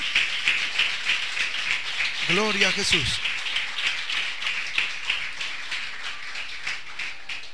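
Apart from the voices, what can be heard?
congregation applause offered to the Lord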